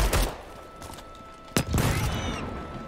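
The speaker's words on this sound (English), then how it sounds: "that's a grenade" A grenade goes off in the Starship Troopers: Extermination video game, one sharp close blast with a rumbling tail, following an earlier burst amid ongoing gunfire and battle noise.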